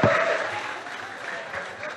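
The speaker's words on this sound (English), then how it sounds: "A round of applause for him once again" An audience at a school debate competition claps in a steady, moderately loud burst of applause lasting a couple of seconds.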